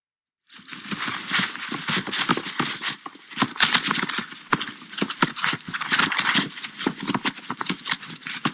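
Horses stamp and clop their hooves in a dense, continuous, irregular clatter, close and loud throughout, with no voices.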